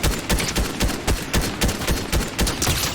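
Rapid bursts of gunfire from a video game arena match, sharp repeated shots cracking in quick irregular rhythm throughout, loud and close with no talk.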